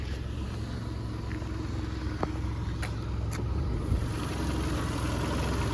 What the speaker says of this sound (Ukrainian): Зараз ще послухаємо двигун.